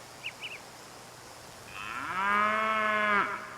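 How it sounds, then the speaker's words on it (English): Outdoors on a pioneer-style farm, a cow lets out one long, low moo that swells and then fades. A couple of faint bird chirps come before it over a soft background hiss, and there is no talk. "And the cow just isn't... keeps mooing."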